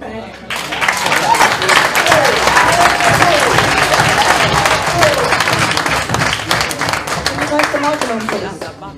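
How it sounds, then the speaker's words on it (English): Audience at a talk on Black identity and African self-determination breaks into sustained applause for several seconds, a dense wash of clapping with crowd noise mixed in. "Can we give another clap, please?"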